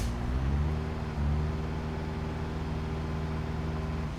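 An Ibishu Miramar's engine labours in BeamNG Drive while towing a heavy load, a steady low drone that rises slightly then holds a strained, even hum without pause.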